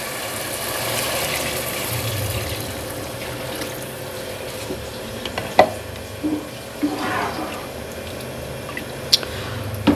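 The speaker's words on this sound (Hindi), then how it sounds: "अब हम इसमें डाल देंगे पानी" Water is poured into a pot of chana dal pulao, a steady broadband rush and splash lasting throughout, with a few brief drips and clinks near the end and no talk.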